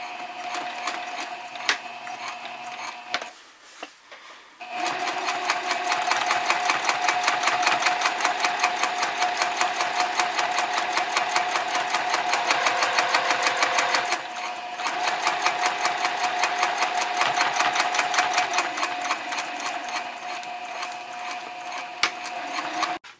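A sewing machine top stitches a messenger bag seam at a 3.0 stitch length. It runs in a fast, steady mechanical whir and clatter, pausing briefly near the start and again midway, then resumes until it stops.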